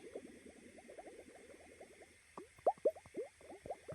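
Hydrogen peroxide is poured into a glass container, a faint run of quick bubbling glugs and trickles that grows into a few louder, separate plops toward the end.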